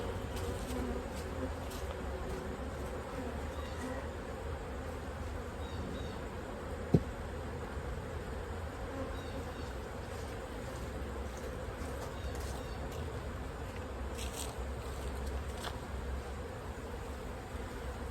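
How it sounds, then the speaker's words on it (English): Honey bees buzz steadily around an opened hive super, a dense continuous hum close by with one sharp tap partway through. "Try to get the bees out of there."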